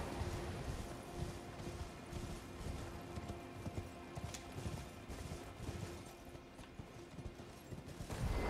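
Steady clip-clop of a horse trotting in the video game Elden Ring, a soft continuous rhythm with faint mechanical background noise.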